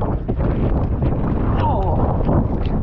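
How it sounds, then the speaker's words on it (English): Strong wind buffets the microphone during downhill mountain biking in a storm, a loud continuous low roar throughout with a voice faintly heard beneath it. "Oh, it's windy."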